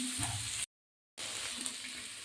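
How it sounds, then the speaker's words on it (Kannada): Tomatoes frying in a pan for ragi vermicelli give a soft, steady sizzle close by, cut by a brief silent gap midway. "ಟೊಮೊಟೊ ಹಾಕ್ತಾ ಹಾಕ್ತಾಯಿದ್ದೀವಿ ಎರಡು ನಿಮಿಷ ಫ್ರೈ ಆದರೆ ಸಾಕು"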